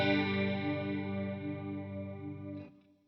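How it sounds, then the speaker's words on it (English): A guitar through a TC Electronic TonePrint TriChorus modulation pedal rings out as one sustained, shimmering chord that swirls and thickens, then cuts off near the end. "this is what the TriChorus does"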